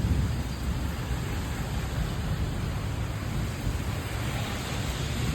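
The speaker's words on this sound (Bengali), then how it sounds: "ঝমঝমিয়ে বৃষ্টি হচ্ছে, তার সাথে মেঘ ডাকছে, বিদ্যুৎ চমকাচ্ছে" Heavy afternoon rain pours steadily as a broad, even wash of noise, with thunder implied by low rumbling underneath; constant and close throughout, with no voices.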